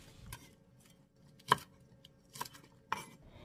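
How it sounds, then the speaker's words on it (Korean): Green onion is chopped into large pieces on a cutting board, with four separate knife strikes spaced unevenly, crisp and close in an otherwise quiet kitchen. "큼지막하게 썰어줄게요."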